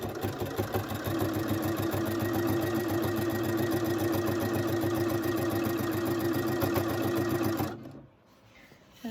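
A sewing machine stitching binding around curved quilt corners, running steadily at a slow, even pace for several seconds, close and clear, then stopping abruptly near the end.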